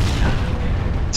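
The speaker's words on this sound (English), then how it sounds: "Here's a sweet explosion!" A loud, rumbling explosion in the video game Sniper Ghost Warrior 2, set during an attack on anti-aircraft guns: a heavy, sustained low boom filling the whole moment.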